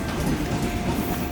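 A train rolls steadily along the tracks with a dense, continuous rumble and faint rhythmic clatter, heard from on board during a trip from Kuttippuram to Kannur.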